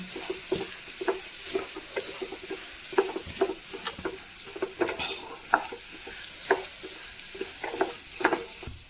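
Raw ration rice being stirred in a pan for upma, with repeated light scraping and clinking strokes of a spoon against the pan over a faint sizzle, close and fairly quiet.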